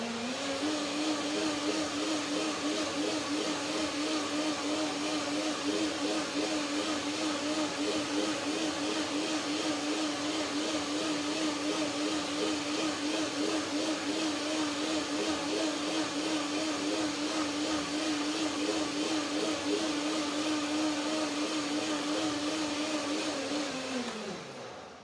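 A kitchen blender runs continuously for about 25 seconds, a loud, steady whirring motor hum with a constant pitch that winds down at the very end.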